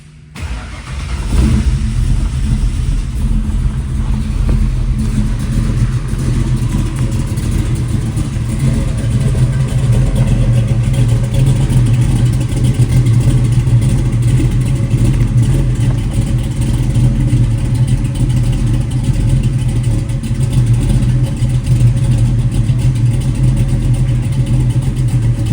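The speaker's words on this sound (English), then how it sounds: "We're going to do a cold start video on the 65 Mustang" A 1965 Ford Mustang with a 363 V8 cold-starts after sitting overnight, cranking briefly then catching into a loud, steady, rumbling idle that holds close and constant without talk.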